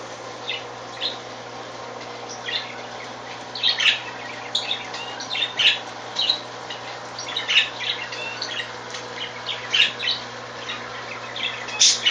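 Pet birds in an indoor fish and bird room give short, sharp chirps and squawks at irregular intervals over a steady low hum of aquarium equipment, fairly close and fairly loud.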